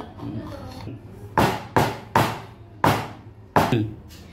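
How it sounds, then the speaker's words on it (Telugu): A ghee-greased bowl of batter being tapped down on a surface to level it: five sharp, hollow knocks at irregular intervals, close and fairly loud, after a quiet start. "ఇట్లా కొట్టుకొని మొత్తం సమానం చేసుకోవాలి."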